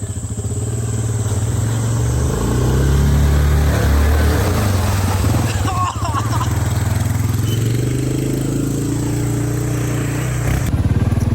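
Polaris General XP1000 side-by-side engine droning steadily and loud while driving off-road through bog holes on forestry roads, a continuous low rumble with clattering bumps and a brief dip midway.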